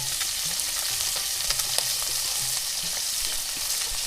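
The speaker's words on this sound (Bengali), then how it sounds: "খুব সুন্দরভাবে কিন্তু ভেজে নিচ্ছি মাছগুলো" Bata fish fry in oil over a village clay stove burning firewood, with a steady, close crackling sizzle and faint scattered pops that run evenly throughout.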